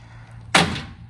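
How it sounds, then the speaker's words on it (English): The power door lock actuator on a 1985 Chevy C10 fires once, a single short, sharp clunk close by, followed by a brief fading rattle, with no voices. "So also testing the power door lock."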